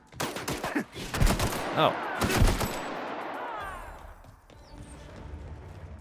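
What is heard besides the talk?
gunfire in video game The Outer Worlds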